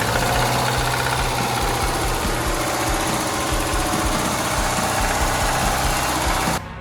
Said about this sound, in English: Just listen to the stock motor.